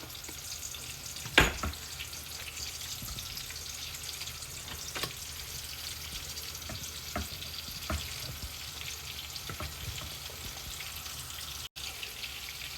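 Onion and meat pie filling sizzles and fries steadily in a pan, with occasional sharp scrapes and taps of stirring, close and fairly quiet.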